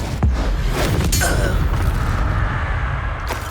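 Fiery spell blast cast in Hogwarts Legacy, a loud booming burst near the start followed by a sustained rumbling roar and crackle that stays dense and heavy throughout.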